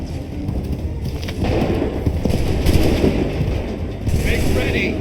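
A volley of musket gunfire in the video game Assassin's Creed III, a dense burst of loud, overlapping shots that rolls on for several seconds with a second wave near the end, set against a noisy battle backdrop.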